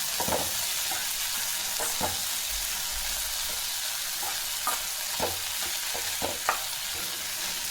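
Horse gram mixed with salt and chilli powder is stirred in a pan: a spoon scrapes in repeated short strokes over a soft, steady sizzle, close and without talk.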